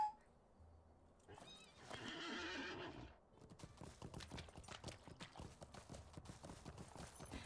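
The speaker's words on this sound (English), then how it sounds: "I'm taking my horse." In the video game LOTRO a horse neighs with a long, bright whinny, then its hooves clip-clop in a quick steady rhythm close by, with no talk over it.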